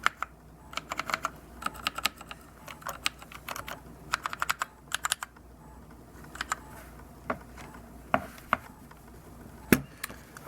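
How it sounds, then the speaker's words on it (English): Typing on a Royal Kludge RK71 wireless RGB mechanical keyboard, close, crisp clicky keystrokes in irregular bursts and isolated taps with short pauses between. "very nice keyboard."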